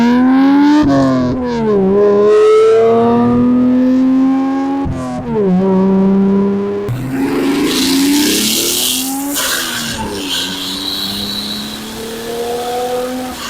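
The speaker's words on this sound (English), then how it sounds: "Mounted my little microphone on the back of the car as well as inside the engine bay to get the exhaust and the turbo noises, but it just blows out the mic." A boosted family sedan's exhaust and turbo, recorded with a microphone mounted at the rear and in the engine bay, revving loudly with rising and falling engine tones and heavy clipping distortion throughout.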